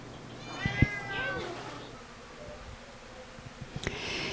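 A cat at an animal shelter meows several times up close, drawn-out cries near the start and another near the end, with soft rustling in between.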